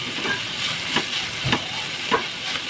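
Chopped onion frying in hot oil, a steady sizzling hiss with soft stirring clicks scattered through it, close and fairly quiet, with no talking.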